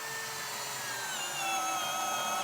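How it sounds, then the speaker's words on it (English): A power drill boring a pilot hole into a wooden cabinet during installation, a steady whirring drone with a rising pitch that grows slightly louder as the bit bites in, close and alone. "Drill our pilot hole."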